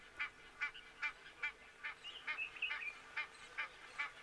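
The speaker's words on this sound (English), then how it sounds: "You can hear those Egyptian geese, or the one at least, I think perhaps the male, letting everyone know about what has just happened." A male Egyptian goose calls in a steady series of repeated, evenly spaced honking notes, fairly distant and moderately loud, with a brief quicker run of calls partway through.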